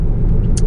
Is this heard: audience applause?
no